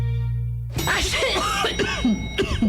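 Several rough coughs and throat-clearing sounds follow a brief steady tone, close and fairly loud, with a few spaced bursts over a couple of seconds.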